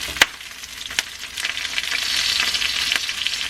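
Head-on shrimp deep fry in hot oil with a steady, close sizzling hiss that swells over time, broken by a few sharp pops and clinks.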